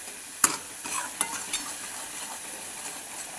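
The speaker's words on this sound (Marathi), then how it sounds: "हे असं 2-3 मिनिटासाठी हलवत राहायचं" A spoon stirs paneer masala in a hot pan, giving a soft continuous sizzle broken by a few sharp scraping clinks of utensil against metal, close and without talk.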